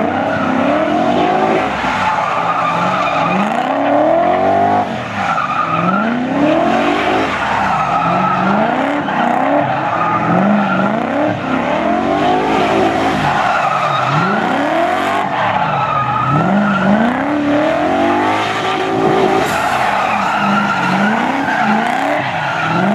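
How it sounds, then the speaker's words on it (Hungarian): Truck accelerating hard at a car, motorcycle and truck drag racing and drift event in Kunmadaras, loud engines repeatedly revving and sweeping up and down with tire squeal, continuous and close. "a baloldali kamion, nézd meg! Ki van véve a tiltás belőle, menni fog legalább 110 km per órával."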